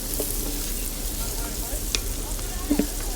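Garlic, bacon and Brussels sprouts sizzle in a pan while being stirred, a soft steady frying hiss with a few faint clicks and scrapes of the utensil.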